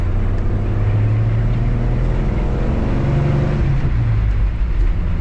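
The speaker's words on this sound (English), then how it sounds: "Really smooth running engine." A 1948 Ford F1 shortbox stepside pickup truck runs steadily while driving, its engine a close, continuous low drone that shifts pitch slightly as it moves, with no voices over it.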